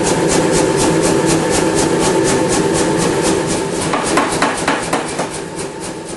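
Power hammer pounding a hot sword blade while drawing out the tip, a fast steady train of loud metallic blows that continues throughout, slightly irregular toward the end.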